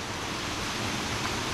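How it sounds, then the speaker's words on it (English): Small but loud waterfall at Akaka State Park on Hawaii's Big Island, a steady, dense rushing roar of falling water heard close and continuous with no talking. "It's a small little waterfall, but it's pretty loud."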